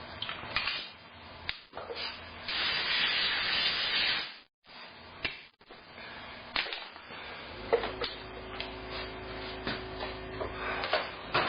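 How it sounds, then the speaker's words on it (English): Compressed air blasts into the parking brake area of a Dixie Chopper Classic mower in short hissing bursts, one long rush followed by several brief puffs, close and fairly loud. "Blow a little compressed air up in here."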